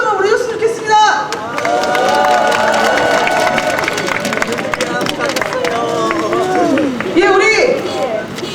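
A rally crowd at a disability rights demonstration against institutional care claps and cheers, loud sustained applause with shouts and whoops, while a speaker's voice carries over the noise through amplification.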